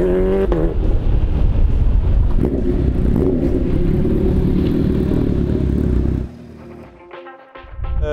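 A Kawasaki H2R motorcycle engine roars loudly and close, a sustained heavy drone that drops abruptly to a lower idle near the end with a brief rev.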